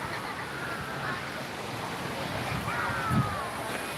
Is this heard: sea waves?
yes